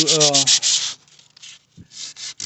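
Sandpaper rubbing back and forth across a plastic car bumper being smoothed around a large hole repair, a run of close, brisk scraping strokes that pause briefly before resuming in shorter bursts.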